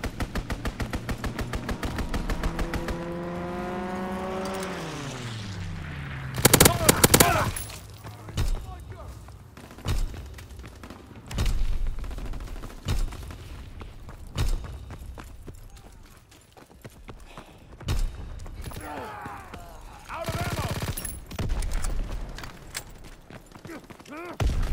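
Fighter strike gunfire in Call of Duty WWII multiplayer: loud bursts of rapid automatic fire and heavy impacts, mixed with a descending engine-like whine early on and scattered battle noise throughout, with voices in the mix.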